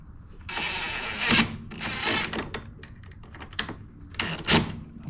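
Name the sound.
driving screws back into plastic on a Toro mower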